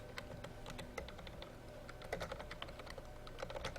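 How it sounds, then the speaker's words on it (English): Rapid, uneven typing on a computer keyboard during a Dota 2 finals match broadcast, close and clear, with steady clicks and short bursts over a faint background hum. "I can't type fast enough."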